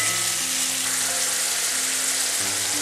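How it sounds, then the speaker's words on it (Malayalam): Lime pieces sizzle in hot oil in a pan, a dense, even hiss of frying that holds close and steady throughout with no talk. "ഇനി ഈ നാരങ്ങ എണ്ണയിൽ കിടന്ന് നന്നായിട്ടൊന്ന് വഴന്നു വരണം."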